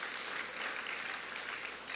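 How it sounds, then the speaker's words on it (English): Soft, steady clapping from guests at a lunch with Visayas governors and Cebu officials, applauding the President; the applause is faint and even throughout, with no voices over it. "A big round of applause to our President."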